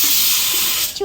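Oil hits a hot pan with a sharp, steady hiss of steam that holds for about a second, then breaks up into brief crackles as it tails off, with some speech around it.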